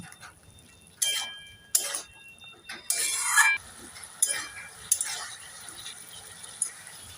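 A spoon stirs chopped tomato into vegetables in a pan for a fish curry with greens, producing several separate scraping bursts and clinks of cutlery against the pan over a faint sizzle, with quiet gaps between strokes.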